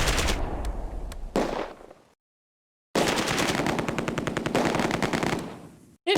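Bursts of machine-gun fire in the Close Combat video game, two short volleys, a silent gap, then a long sustained rattling burst that tapers off, loud and close with no talking.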